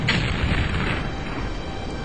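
A single heavy boom from a gun shot in Terror From The Deep hits at once and decays into a low rumbling tail over about two seconds.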